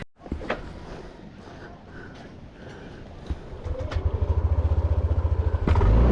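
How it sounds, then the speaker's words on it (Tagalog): A motorcycle idles nearby and then revs up, its engine pulsing in a steady rapid rhythm that grows louder toward the end, with a few birds cooing faintly in the background. "Babalik na ako sa motor ko guys."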